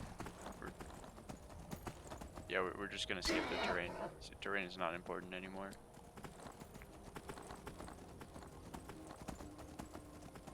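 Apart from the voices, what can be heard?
horse galloping hooves in video game Skyrim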